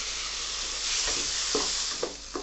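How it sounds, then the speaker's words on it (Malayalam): Tomato sautés in a pan with onion, green chilli and turmeric, giving a steady close sizzle broken by a few brief scraping stirs. "ടൊമാറ്റോ നല്ലതായിട്ട് വഴറ്റണം."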